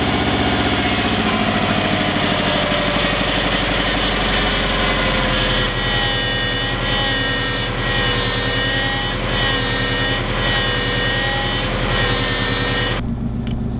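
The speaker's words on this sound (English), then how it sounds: "I'm gonna go ahead and start the car up now" A car engine idles steadily with a persistent whine from a faulty power steering system, the tone pulsing slightly in the second half before cutting off abruptly near the end; close and loud, no talking.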